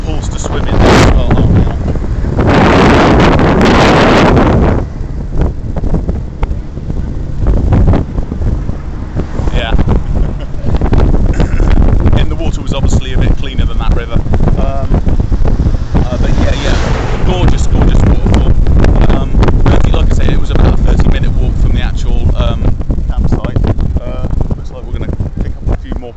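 A waterfall at Um Phang, Thailand, pours as a continuous broadband rush with wind buffeting the microphone, and a few louder gusts come near the start.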